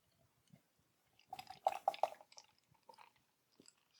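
Vocation Three Flow ESB beer being poured into a glass, a soft liquid glug and fizz with a few bright gurgles in the middle, quiet and close, no talk.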